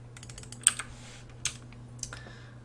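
Keys on a computer keyboard are pressed while drawing in SketchUp, giving a few sharp, close clicks and taps spread unevenly over a quiet room hum, with no speech.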